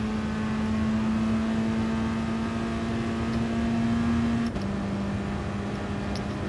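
A car engine in Gran Turismo Sport drones steadily at high revs, its pitch creeping up before a sudden drop at a gear change, then holding lower with a constant whirring tone.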